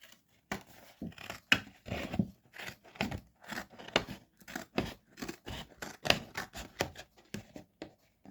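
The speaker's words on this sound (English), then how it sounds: "Through the rest of it with the scissors." Repeated crisp snips of scissors cutting through card, in an irregular rhythm of short bursts, close and fairly clear with no talking.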